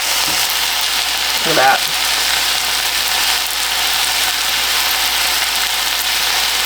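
Food stir frying in a pan gives a steady, close broadband sizzle that runs without a break, and a voice speaks briefly over it.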